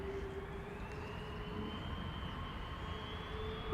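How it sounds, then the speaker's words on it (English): A KLM Airbus A330-200 airliner departing Schiphol, heard as a steady, moderately distant jet roar with a faint rising whine, continuous and unbroken throughout. "A330-200 to Sint Maarten, KLM flight 787."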